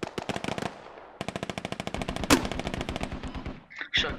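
Gunfire in the military shooter game Squad, long rapid bursts of automatic fire with a short pause, a heavier blast midway and a final crack, close and loud.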